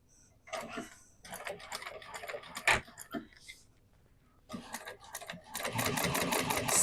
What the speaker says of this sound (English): we're going to go ahead and we're going to top stitch through this side